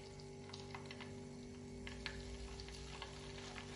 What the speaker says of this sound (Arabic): بعد ما حمي الزيت منيح على الغاز، هلا بنقلي المعكروني انا وياكم